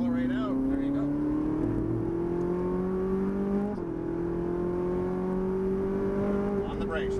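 Ferrari 458 Italia accelerating out of a chicane on a race track, its engine note climbing steadily in pitch over several seconds with a brief shift-like dip midway, loud and close from inside the car, with a voice talking over it.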